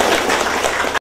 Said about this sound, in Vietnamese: Xin cho một tràng pháo tay đi.